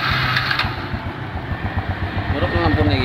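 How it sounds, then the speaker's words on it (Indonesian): A motorcycle under repair runs during an engine test, a close, steady idling rumble with a low throb that holds for the whole short stretch. "Tes mesin."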